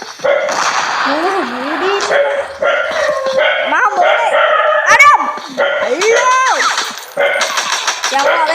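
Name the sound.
dog barking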